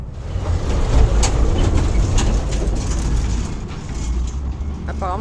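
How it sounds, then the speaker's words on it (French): Local buses passing along a street in Antigua, Guatemala, with a loud, continuous engine roar and road rumble close by and a faint murmur of street activity beneath it. "Apparemment, c'est les bus typiques d'ici."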